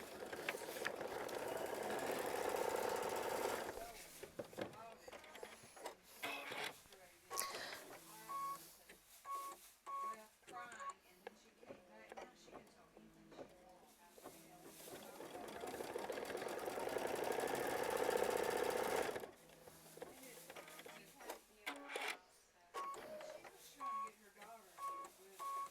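A sewing machine stitches a quilt block in stop-and-start runs, a steady buzzing whir broken by pauses and clicks, close by, with someone talking over parts of it.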